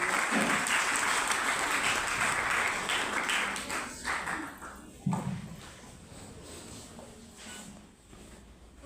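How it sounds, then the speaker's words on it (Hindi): Audience applause welcoming cadet singers onto the stage at a Republic Day celebration, many hands clapping loudly at first and then tapering off over several seconds with a brief resurgence, fading to a quieter patter. "जोरदार तालियों से इनका स्वागत करें।"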